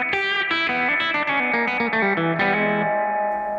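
Guitar notes played through a Gamechanger Audio Light Pedal in optics mode, a spring reverb, with a melodic line of plucked tones that leaves a long, shimmering reverb tail fading out at the end.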